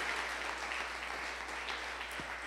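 Congregation clapping in a church service, a steady dense wash of hands applauding together that holds evenly throughout without pause.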